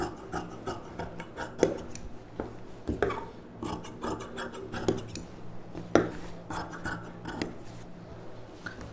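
Scissors cutting folded silk blouse fabric to shape for a pa neck blouse, a steady run of close, dry snips and rasping slides in quick succession, no talking.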